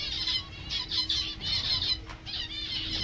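Pet zebra finches and spotted doves squawking and flapping their wings in repeated bursts, a steady mix of chirps and wingbeats close by throughout.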